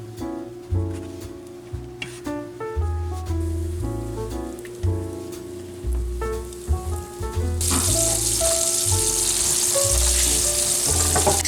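Cube steaks coated in egg wash and flour seasoned with salt, pepper and steakhouse blend go into a hot skillet, a steady close sizzle that swells to a loud crackling fry midway, with music playing underneath.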